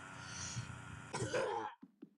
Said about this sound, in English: Hold on, cough.